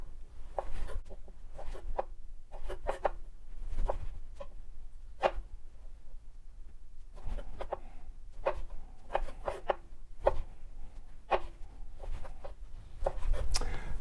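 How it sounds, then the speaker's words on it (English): Knife slicing cherry tomatoes in half on a cutting board for an Afghan salad, a steady run of short crisp taps and chops, close and fairly loud, with brief pauses between groups of cuts. "And for the cherry tomatoes, I just cut these in half."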